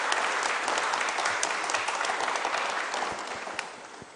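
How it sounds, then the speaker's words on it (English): Audience applause welcoming a chief guest at a port officers' orientation programme, dense, even clapping from a large hall filling the whole stretch and tapering slightly near the end. "welcome our chief guest, Dr. Malini Shankar, with a huge round of applause."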